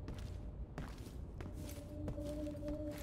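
Footsteps in the tactical shooter Ready Or Not, a few soft, fairly faint thuds spaced irregularly over a low ambient game background, with no voices.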